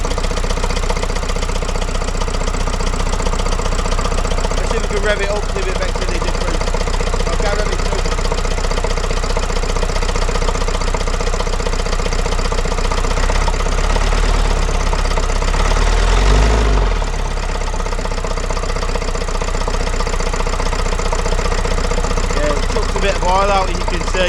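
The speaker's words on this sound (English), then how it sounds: "Let's see if we can rev it up, see if it makes any difference." A Vauxhall Vivaro 2.0 diesel engine runs after an injector replacement, a loud, steady mechanical clatter close by that swells briefly as it is revved, with people talking over it.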